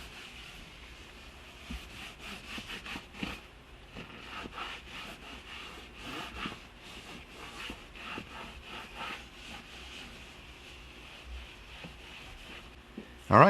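A small blue applicator pad rubs Intra-Shield interior protectant onto a car's interior leather and plastic surfaces, giving a soft, steady, repeated scrubbing swish that stays close and fairly quiet, ending with a brief louder knock.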